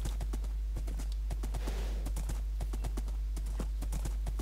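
A horse's hooves clip-clop at a steady walking rhythm across the ground in a Lord of the Rings video game set in Rohan, close and clear over a low constant hum.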